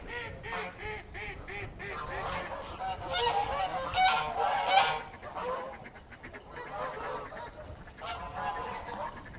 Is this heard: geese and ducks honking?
yes